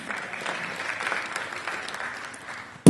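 Congregation applauding in church, a steady wash of clapping from a crowd that holds evenly throughout, followed by a sudden loud burst right at the end.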